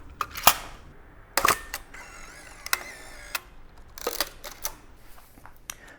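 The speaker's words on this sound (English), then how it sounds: "I might just chuck this little Metz flash adapter thing on both of them intermittently and shoot some shots like that" Mamiya RB67 and RZ67 medium format cameras firing their shutters with a Metz flash attached. Several sharp mechanical clacks come in irregular succession, close and crisp, with a faint high flash-charging whine between some shots and no talk.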